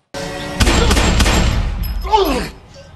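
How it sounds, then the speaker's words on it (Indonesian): Gunfire in an action film: a sharp, loud volley of several close shots, then a rumbling tail with whooshing effects that fades out. "Ethan akhirnya berhasil menembak orang yang tak dikenal itu sampai ia mati."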